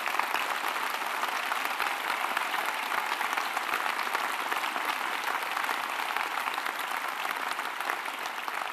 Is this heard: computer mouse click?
no